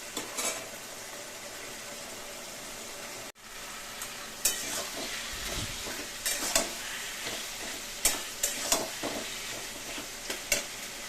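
Taro leaves with hilsa fish heads cook in a pan, giving a quiet background sizzle broken by a sudden brief gap and then irregular scraping stirs and clinks of a utensil against the pan, close by with no speech.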